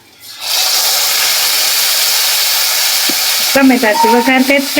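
Curry leaves and tomato dropped into hot oil in a pan burst into a loud, sustained sizzle that holds steady, followed near the end by a voice speaking over the frying.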